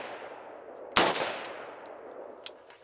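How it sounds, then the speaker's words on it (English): An unsuppressed AR-15 rifle fires outdoors, giving one loud sharp crack with a rolling echo and then a fainter second report about a second and a half later. "we'll start off with the AR-15, and we'll put 2 shots down range"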